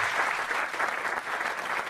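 Studio audience on a French TV quiz show breaks into sustained applause, a dense even wash of clapping that holds steady for a couple of seconds.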